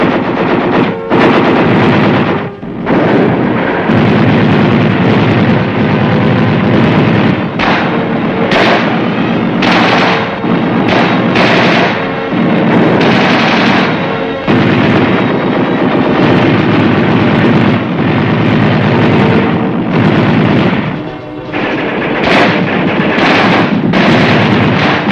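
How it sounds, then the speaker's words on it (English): Infantry weapons fire together in a mass demonstration: dense, loud, continuous volleys of rifle, machine-gun and heavier blasts, with sharp individual cracks punching through the sustained roar for the whole stretch. "A mass demonstration of all infantry weapons adds up to a lot of punch"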